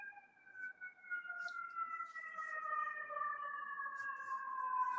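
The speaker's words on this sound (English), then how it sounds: "Yes, definitely a fire truck." A fire truck siren wails in long, sliding tones that hold steady and drift slowly in pitch, heard alone at moderate distance without voices.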